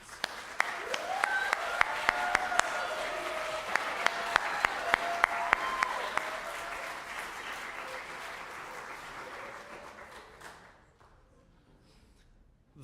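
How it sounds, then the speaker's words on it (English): An audience at a university music and dance honors convocation applauds with sharp claps over a dense patter, gradually thinning out and fading to near silence at the end. "We'll give you a round of applause"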